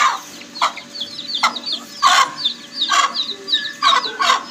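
A large hen clucks repeatedly around a group of colourful chicks, with soft clucks and sharper calls coming in an uneven rhythm and high chick peeps scattered between them, close and clear with no talking.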